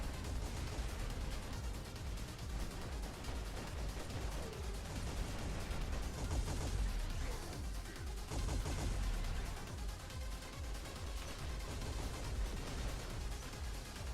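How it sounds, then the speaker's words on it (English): Robot weapons fire in War Robots: a sustained, dense barrage of game gunfire and impacts that stays loud and continuous throughout, with faint bursts rising now and then. "I need to fire all my shots here first just to reload."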